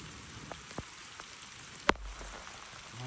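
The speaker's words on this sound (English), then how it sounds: "listen, it's raining" Light rain falls steadily outdoors near a pasture, a soft continuous patter with a few louder drops and one sharp knock partway through, no voices.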